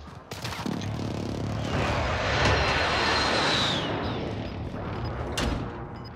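Airstrike in Call of Duty Modern Warfare Warzone: a loud, continuous roar of jet engines and rolling explosions with a descending whine partway through, a sustained rumbling barrage that builds and then tails off.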